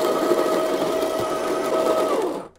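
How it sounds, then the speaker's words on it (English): A Baratza Encore electric coffee grinder grinds beans with a steady, loud motor whine and gritty crunching for about two seconds, then quickly winds down to silence. "I'm going to make use of the power switch and just let this grind a little bit."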